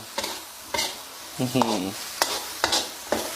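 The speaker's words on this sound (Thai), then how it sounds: "แล้วก็ผัดคลุกเขาให้เข้ากัน" Bird's eye chilies and garlic stir-fried in a pan, with a handful of distinct scraping spatula strokes over a soft sizzle, close and fairly loud, no talking.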